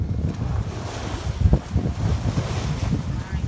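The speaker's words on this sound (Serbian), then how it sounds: "Na brodu gde se nalazi samo kapetan i Maja i ja, znači sami u okeanu." Wind roars across a microphone aboard a small boat out on the open Atlantic Ocean near Tenerife, with waves washing and surging steadily and loudly throughout, no clear speech.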